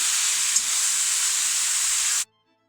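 Shredded bottle gourd cooking in a pan for dudhi halva gives a steady, close hiss and sizzle that holds evenly for about two seconds and then cuts off abruptly to silence.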